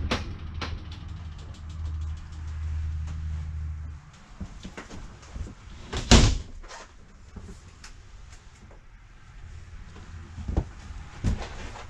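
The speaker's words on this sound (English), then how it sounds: "We'll open the door there." Bathroom door of a 2007 Montana 3585SA fifth-wheel RV opens with a sharp latch click and thud at mid-clip, among several softer knocks and handling sounds in a quiet interior after a low engine-like hum fades.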